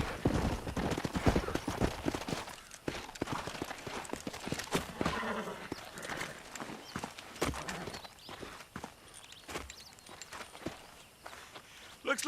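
Horse hooves clip-clop in the Western game Red Dead Redemption, a busy run of overlapping steps from several mounts, with voices talking over them throughout.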